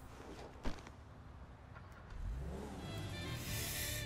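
Car engine in the video game Grand Theft Auto V, starting quietly and rising into a steady rev that grows louder toward the end, with no talk over it.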